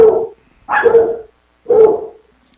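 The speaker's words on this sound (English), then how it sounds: "my dog just started barking" A dog barks three times in separate loud, close bursts with short silent gaps between them, heard alone in a quiet room.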